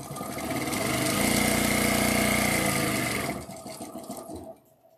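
A self-oiling sewing machine runs smoothly at steady speed for about three seconds after a needle change, a loud even mechanical whir that slows and fades into a few softer clicks.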